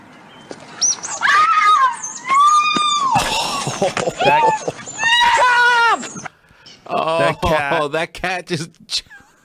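Loud, shrill squirrel screaming in repeated bursts as a cat attacks it, high-pitched and wavering, with short gaps between cries.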